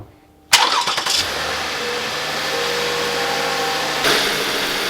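A Lexus ES 350 engine cranks and fires after a serpentine belt replacement, catching abruptly with a brief rattling start, then settling into a steady, loud idle close by, with a slight revving swell near the end.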